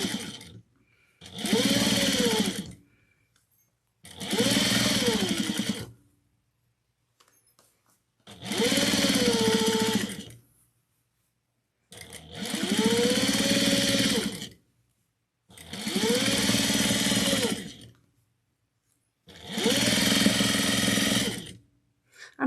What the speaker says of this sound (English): I'm sewing on my 5550. It's equivalent to like a Janome HD or a Juki QVP Mini. Like it's just a straight stitch machine.